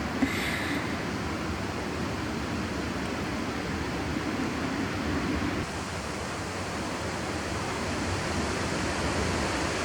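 Wind blows steadily at a mountain campsite after the summit, a dense broadband rush that stays continuous and fairly loud for the whole stretch, with no voices.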